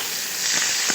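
Finely chopped onions frying in oil over low heat, a dense continuous hiss and sizzle with a faint stir or two near the end.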